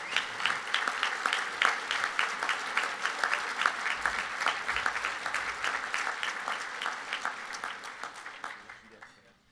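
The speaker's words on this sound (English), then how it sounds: "let's give these sponsors a great round of applause for their support of the Broyles Award" A banquet audience at the 2013 Broyles Award gives a round of applause for the award's sponsors, dense clapping with distinct individual claps, fairly close, that keeps going and then fades out at the end.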